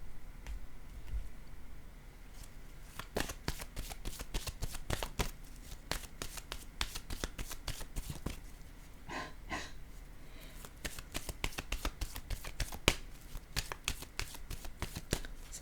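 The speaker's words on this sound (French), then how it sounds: "je vais déposer une autre carte ici." Tarot cards being shuffled in a dense run of quick riffling flicks and soft slaps, close and fairly quiet, with a brief pause before the rapid shuffling resumes.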